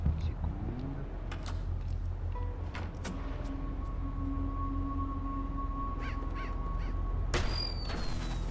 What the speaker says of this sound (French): Allez, corbeaux, nous font repérer.